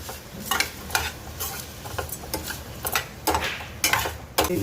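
Brinjal curry (oil-style ennegayi palya) with onion and tomato is stir-fried in a pan: a constant sizzle with repeated close scrapes and clinks of a spatula stirring in a quick rhythm.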